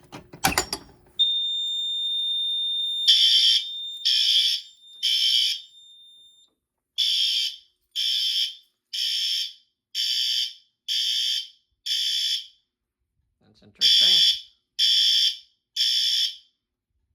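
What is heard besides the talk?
Notifier NFS2-640 fire alarm sounding after pull station pulled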